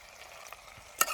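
Masala and chili powder stirred into oil in a frying pan, outdoors in a forest, with soft scraping and faint sizzle that ends in a brief louder clatter of the spoon against the pan.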